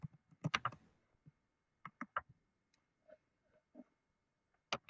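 Computer keyboard typing for an in-game chat message, sparse bursts of clicky keystrokes in short clusters with pauses between them, close and fairly quiet, with no talk over it.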